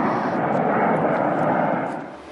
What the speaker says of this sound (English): A US Air Force transport plane takes off from Bamako Air Base.